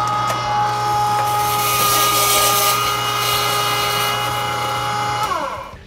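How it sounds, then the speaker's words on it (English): An electric meat grinder's auger churns ice through to clear out leftover meat while making breakfast sausage, a steady droning motor whine with grinding crunch that holds for about five seconds before winding down and cutting off. "finally, some ice to get as much of that meat block out of the auger as we can"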